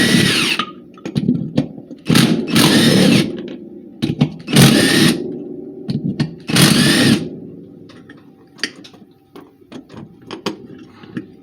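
A power tool repeatedly whirs in short, loud bursts, backing out the head bolts on a rare General Engine Co. Model D Type 21 engine, with spurts of buzzing separated by brief pauses and clanks close by.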